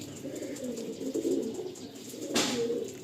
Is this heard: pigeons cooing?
yes